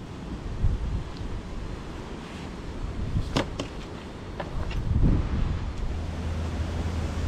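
Gusty winter wind on a narrowboat buffets the microphone in a steady low rumble, rising and falling, with a few faint clicks and knocks in between.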